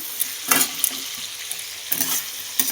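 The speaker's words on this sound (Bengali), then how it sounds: "এবার আবার একটুখানি নেড়ে নিচ্ছি" A spoon stirs cucumber shukto with potato in a pan, giving a few scraping bursts over a low, steady sizzle, close and moderately loud, with no talking.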